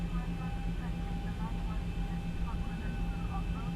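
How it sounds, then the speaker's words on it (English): A Zibo Boeing 737-800 in X-Plane 11 taxis toward runway 31 right at Marseille. A steady, low jet-engine drone runs unchanged throughout while someone talks over it. "let's go ahead and taxi ourselves over to runway 31 right for departure"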